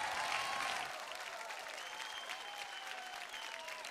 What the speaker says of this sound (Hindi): जोरदार ताली से स्वागत करें के।